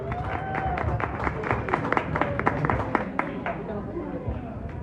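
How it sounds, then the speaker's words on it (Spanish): An audience in a bar applauds during a live radio broadcast, with distinct close handclaps over a murmur of crowd chatter and a whistle at the start, the clapping fading into babble toward the end. "Un aplauso para el Flanagans."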